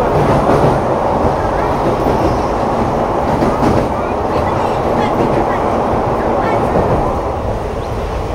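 The Palakkad Town to Trichy express train runs along the track, a loud, continuous rumbling roar with faint rhythmic rail clatter, heard from inside the coach.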